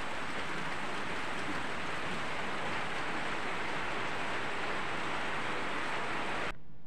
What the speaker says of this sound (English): Suddenly it's raining heavily.